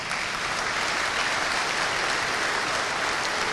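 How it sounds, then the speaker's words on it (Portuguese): Steady, full applause from a church congregation welcoming a guest to the front, an even wash of clapping with no voices over it. "Vamos receber o Amaral com uma salva de palmas."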